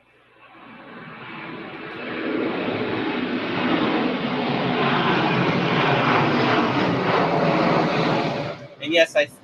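A propeller airplane passes close by near an airport, its engine drone swelling from quiet to a loud sustained roar for several seconds before fading, with a brief knock at the end.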